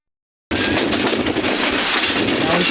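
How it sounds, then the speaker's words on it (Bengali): Kurigram Express train running fast between Joypurhat and Dhaka, a loud, continuous rumble and rattle of carriages with rhythmic wheel clatter, heard close from on board after a brief silence. "কত জোরে চলতেছে এই ট্রেনটি"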